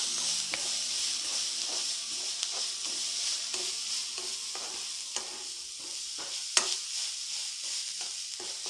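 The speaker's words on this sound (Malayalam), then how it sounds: "നമുക്കിത് വഴറ്റി കൊടുക്കാം." Onions sauté in a hot pan with a steady close sizzle and hiss, broken by scattered scraping stir strokes and a few light clicks, with no talk.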